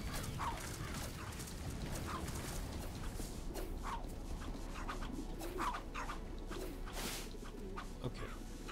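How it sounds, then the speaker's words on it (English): Birds cooing and fluttering in the Tokyo Jungle video game, soft repeated calls over a steady low background with no talk. "Oh, there's birds!"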